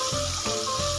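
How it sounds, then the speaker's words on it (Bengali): Onion paste sizzles steadily in hot mustard oil with whole garam masala, a close, continuous frying hiss with soft bubbling pops and no voices. "পেঁয়াজটা ভেজে নেব।"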